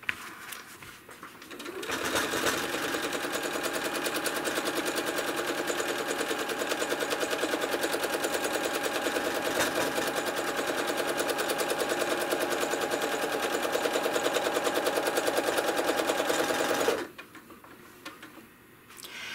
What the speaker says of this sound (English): I enjoy the process of machine quilting